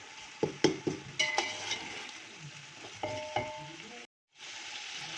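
Tomatoes, onions and vegetable pieces fry in a pot for chicken pulao, a quiet sizzle with several knocks and scrapes of a spoon against the pan, brief talk and a short dropout near the end.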